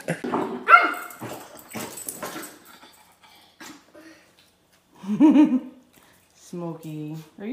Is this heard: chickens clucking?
no